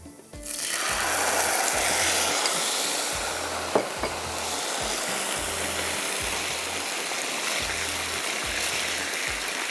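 Sauce poured onto browned fried garlic in a hot pan, with the stove just turned off, for chicken seekh kabab. A strong sizzle surges up, then settles into a steady hiss over a low, regularly pulsing hum.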